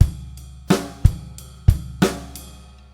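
Drum kit groove with ride cymbal eighth notes washing over punchy bass drum and crisp snare hits in a steady rock pattern, close and alone with no talk.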